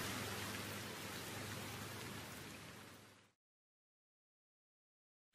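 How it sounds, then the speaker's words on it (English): Steady, dense rain hisses loudly for about three seconds, then cuts off into silence. "I really hate this rain."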